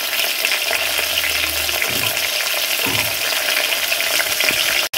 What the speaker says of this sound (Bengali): চলো আলুটা আগে ভেজে নিই